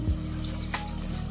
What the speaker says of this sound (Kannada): ಮಿಕ್ಸಿ ಜಾರಲ್ಲಿರುವಂತಹ ಮಸಾಲೆಗೆ ಸ್ವಲ್ಪ ನೀರು ಹಾಕಿ ಅದನ್ನು ಸಹ ಆ್ಯಡ್ ಮಾಡ್ಕೊಳ್ತಾ ಇದ್ದೀನಿ